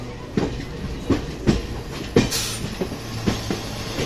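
An Indian Railways train rolls along with rhythmic clickety-clack wheel beats over rail joints and a low steady rumble. A brief hiss comes midway, and no one speaks.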